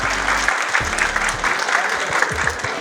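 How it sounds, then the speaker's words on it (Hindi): An audience at a preschool annual function claps steadily throughout, a dense, even patter of applause, with some low rumbles and voices mixed under it. "इनके लिए तालियां हो जाए."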